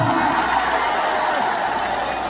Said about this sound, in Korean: 큰 그 박수 한번 치겠어요